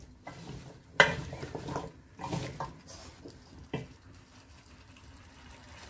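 A spoon stirs carrots and other vegetables in a cooking pot, giving several clinking scrapes against the metal with wet shuffling, a sharp knock near the start and softer stirs after, close and fairly quiet.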